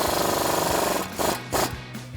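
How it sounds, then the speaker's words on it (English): Ratchet turning a 22mm deep socket on a swivel adapter during a front upper control arm install on a Toyota Tacoma. A steady run of fast clicking is followed by a few separate short bursts of ratcheting. "I'm going to use a swivel adapter and 22mm deep socket on this."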